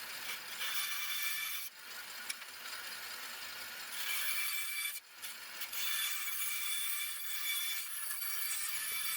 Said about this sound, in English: We'll just power up that bandsaw and we'll use that instead.